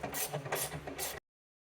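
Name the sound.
tightening T30 screws on Chevrolet Cruze trunk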